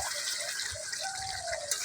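Hot water pours into goat meat (khasi mangsho) cooking over a firewood-and-gas setup, a steady close gush of liquid lasting the whole moment without a break.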